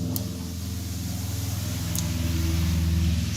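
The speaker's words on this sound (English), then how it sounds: "Sorry, loud vehicle." Loud vehicle passing outside, a deep rumbling engine drone with pulsing low tones that swells slightly louder toward the end, continuous under no speech.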